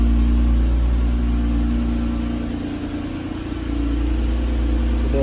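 A 2022 Toyota Camry TRD, started with the remote key fob, idles steadily with a low, constant engine hum that dips briefly midway.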